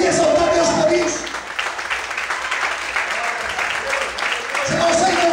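A church congregation bursts into sustained applause, a dense wash of clapping that swells under a preacher's amplified voice, which is heard at the start and end.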